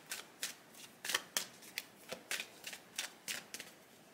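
Tarot cards shuffled in quick bursts of crisp riffling flutters, about a dozen short rustling snaps in a steady rhythm, close and fairly quiet with no voices.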